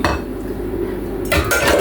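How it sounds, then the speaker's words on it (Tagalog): Cooked rice scooped with a serving spoon from a pot after microwaving, giving a few close scraping and clinking dish sounds over a steady kitchen background, with louder clatter near the end. "sandok tayo ng kanin."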